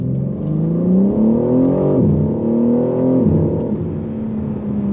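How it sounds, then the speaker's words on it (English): A car engine revs up steadily, then drops sharply with a brief burbling pop at each gear change, loud and close. "when you change up gear, it seems to have added almost like a DSG fart"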